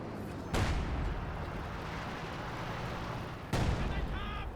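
An incendiary barrage lands in Company of Heroes 2, with two sharp, heavy impacts standing out over a constant loud rumble of battle noise.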